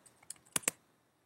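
Keys on a computer keyboard are tapped quickly in a short burst of light clicks, with two sharper presses in the middle, all quiet and close in a silent room.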